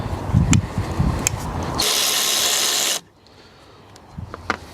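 A cordless battery power tool works on a crash-damaged Peugeot, letting out one steady, loud whirring burst of about a second that cuts off sharply, framed by clunks and handling noise nearby.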